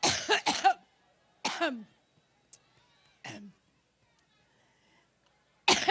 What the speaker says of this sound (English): The Democratic nominee gripped by a coughing fit in Cleveland.